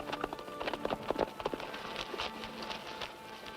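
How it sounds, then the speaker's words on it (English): Horse hooves clip-clop on hard ground in a western ranch scene, a brisk uneven run of hoofbeats at moderate distance, fairly quiet and with no talking over it. "What's the matter with your horse?"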